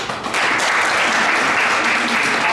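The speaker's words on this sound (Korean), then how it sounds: "네, 큰 박수." Sustained, loud audience applause fills a university architecture and IT capstone presentation session, a dense steady clatter of many hands starting almost immediately and holding evenly throughout.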